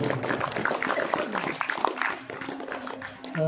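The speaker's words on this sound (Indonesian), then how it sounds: "Beri tepuk tangan untuk pemateri kita yang pertama." An audience of students applauds the first speaker at a campus sharing session, heard as busy, crowded clapping with some voices mixed in that fades slightly toward the end.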